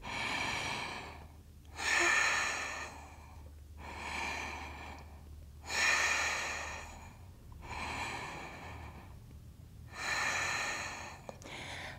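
Slow, deep breaths during a yoga side plank, three long inhale-exhale cycles with a soft rushing airflow, close and steady, no talking.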